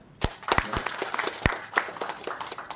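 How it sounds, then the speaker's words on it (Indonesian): Scattered applause from an audience at a GP Ansor branch conference in Lahat, a few sharp, distinct claps standing out near the start, then lighter, thinner clapping that trails off. "Tepuk tangan."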